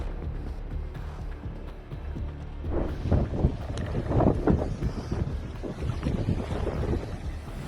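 Strong storm wind from a cyclone in Kamchatka roars and buffets steadily, with rushing gusts and crashing water-like surges throughout, loud and close.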